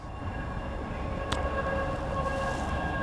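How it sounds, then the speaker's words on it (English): A train runs past a freshwater pike-fishing spot as a steady, continuous rumble with a tonal hum, holding even loudness for the whole stretch and joined by one brief sharp click near the middle. "Hello train."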